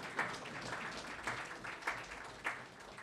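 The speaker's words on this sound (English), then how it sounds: "Applause now, please." Applause from an award ceremony audience, a faint, steady wash of clapping that swells in a few brief surges, with no voices over it.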